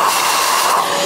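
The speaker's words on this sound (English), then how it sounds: "you could kind of get the brush down in there and and vacuum it or compress air it out as well" Compressed air blasts through a Compak K3 Touch coffee grinder, a loud, steady broadband hiss held close throughout without break or talk.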